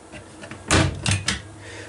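Locker door aboard a 2019 Pursuit OS-355 offshore cabin express fishing boat swings open or shut, giving a close thump followed by two lighter knocks in a quiet cabin.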